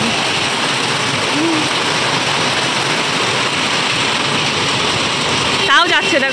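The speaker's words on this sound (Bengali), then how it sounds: "যে দোকানে দাঁড়িয়ে আছি আমরা, প্রচুর, হ্যাঁ খুব বৃষ্টি হচ্ছে।" Heavy rain pours steadily as a broad, constant hiss, heard while sheltering under a shop awning on a street, with a brief burst of louder noise near the end.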